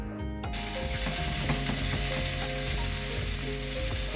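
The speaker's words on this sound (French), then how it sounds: "Une fois que le beurre devient un peu brun, on ajoute les oignons." Onions hit a pan of browned butter and oil, and a loud, close sizzle bursts up and holds steady, with faint clinks of a utensil and no speech.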